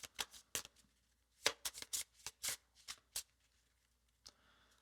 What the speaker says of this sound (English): So I'm going to put these in the bottom and shuffle them.